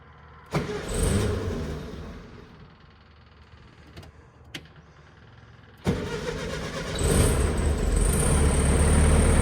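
A Volkswagen Beetle's engine cranks briefly, falls quiet, then catches on a second attempt and settles into a loud, steady idle, heard close by with no talking.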